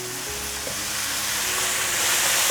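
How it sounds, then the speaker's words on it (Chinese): Winter melon strips stir-fried in a wok with seasoning, a loud steady sizzle of hot oil with stirring scrapes, close and continuous. "把调味料翻炒均匀后，现在放入冬瓜条"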